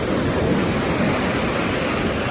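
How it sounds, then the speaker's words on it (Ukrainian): Continuous roar of sea waves breaking on shore, a dense, loud wash of surf with no distinct individual crashes, heard alone without any voices. "Просто слухайте шум моря."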